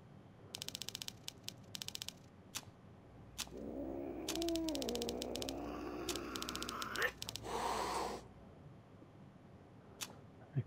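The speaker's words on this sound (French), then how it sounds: "Le chat." A cat meows in the PS4 video game Demetrios, a drawn-out plaintive yowl that wavers for several seconds between sparse clicking menu sounds, with no talk over it.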